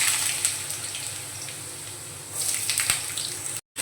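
Potatoes fry in hot oil with a steady, close, hissing sizzle that swells briefly and then cuts out abruptly near the end.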